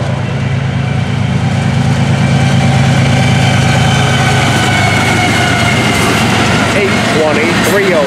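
A Florida East Coast freight train locomotive rumbles loudly and steadily nearby at sunrise, a heavy low engine drone that runs throughout, with metallic squeals rising toward the end.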